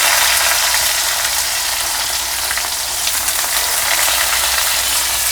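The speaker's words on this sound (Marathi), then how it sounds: "कांदा आहे ना आपल्याला चांगलंसं परतून घ्यायचं" Chopped onion frying in hot oil with curry leaves and cumin for a cowpea (chavali) bhaji, a loud, steady, close sizzle with no one talking.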